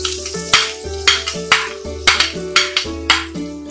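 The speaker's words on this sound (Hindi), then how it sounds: "प्याज को हम 2-3 मिनट तक भूनेंगे।" Chopped onions fry in hot oil with cumin in a kadhai, giving a steady sizzle broken by regular scraping stirs and clanks of a spatula against the metal pan, close and fairly loud.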